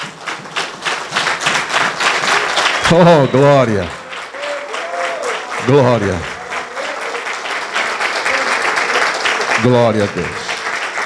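A church congregation at a men's congress applauds the Lord in sustained, energetic clapping while a voice repeatedly shouts praise over the noise.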